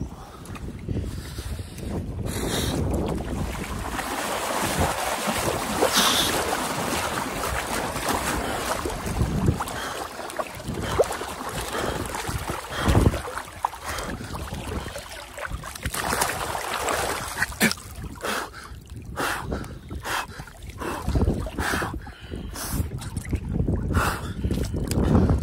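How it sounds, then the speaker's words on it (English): Wind blowing outdoors at a farm by the water, a continuous rough rumble buffeting the microphone with gusty surges and crackling bursts throughout, no talk. "it's actually a bit windy right now, so it feels even colder"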